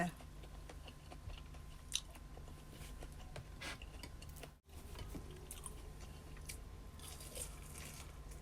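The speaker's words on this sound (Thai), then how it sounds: "ต่อด้วยทุเรียนแล้วกัน กินผู้เล็กๆก่อนอ กรอบนอกนุ่มใน" Durian that is crisp outside and soft inside being eaten close up, with faint repeated bites and chewing crunches under a low steady background hum.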